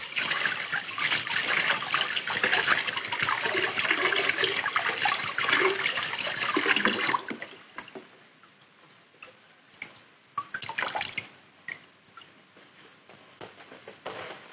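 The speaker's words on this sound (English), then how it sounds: "we can simply hose it off" Water from a hose sprays over Mylar insulation, a dense hiss for about seven seconds, then dropping to scattered drips and trickles.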